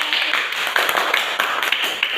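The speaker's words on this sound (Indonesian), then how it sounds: "Oke, tepuk tangan dulu" Students in a classroom math lesson clap hands together, a dense continuous patter of many claps at steady loudness throughout, with no one speaking over it.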